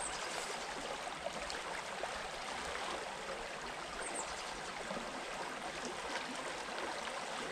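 A countryside river, the River Kensey, flows steadily with a continuous soft broadband rush of water, constant and fairly faint throughout, with no voices.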